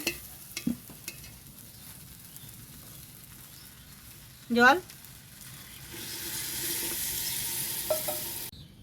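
Browned meat for a khichuri sizzling in a pan, with a few clinks and a brief rising squeal, then water poured in, which turns the frying into a louder, sustained broad hiss that steams on to the end.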